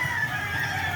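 Golden Monkey Sweater hens clucking steadily close by, a continuous low murmur of fowl sounds with no talk over it.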